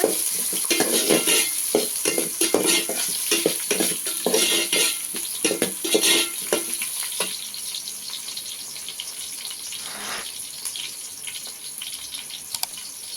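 Lentil sambar ingredients sizzle and fry in a pan while a utensil stirs and scrapes in quick repeated strokes, steady and close, with a softer hiss as the stirring eases toward the end.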